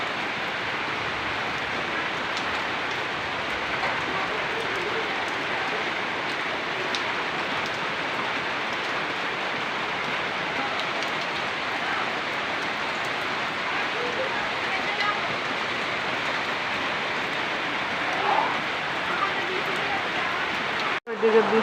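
Heavy rain falls steadily, a dense continuous hiss of drops on surfaces that holds at an even level throughout, with a brief louder disturbance at the very end.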